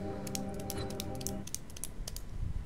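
A computer keyboard clicks in short bursts of quick keystrokes, close and fairly clear over a low steady hum, with no talking.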